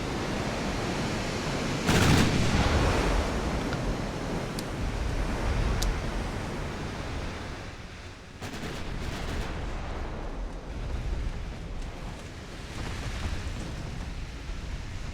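Battleship 9-inch guns fire in Ultimate Admiral: Dreadnoughts naval combat, with heavy booming blasts near two and nine seconds over a constant rushing, sea-like roar that fills the whole stretch.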